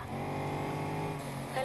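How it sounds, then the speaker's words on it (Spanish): A Mercedes C63 in the racing game Need for Speed Heat drones steadily with engine tone, ending in a brief turbo blow-off whoosh, all fairly quiet. "Pero cómo suena el turbo, ¿eh? Bueno, la válvula de descarga, pero suena increíble."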